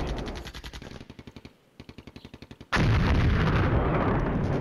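Artillery bombardment in a video game: a loud run of rapid, evenly spaced booming shots, a brief lull, more rhythmic firing, then a sustained heavy roar of continuous blasts.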